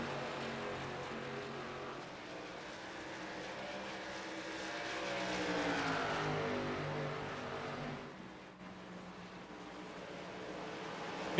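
Race cars lap the Dover Monster Mile during a 125-lap race, including the 89 car on fresh tires, their engines forming a continuous loud roar that swells and fades as the pack passes near, then dips briefly before rising again.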